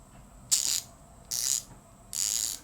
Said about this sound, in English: Now this is a 120 tooth, what do they call it, XP ratchet.